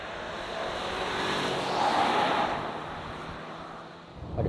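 A 2023 Subaru Outback turbo being driven hard around a track in sport mode, its engine and road noise forming a steady broadband roar that swells and fades over a few seconds, with strong wind rush and no talking.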